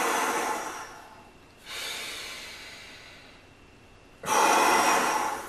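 Three long, breathy exhales during a shoulder stretch, each a loud close whoosh of air separated by brief pauses, with no talking.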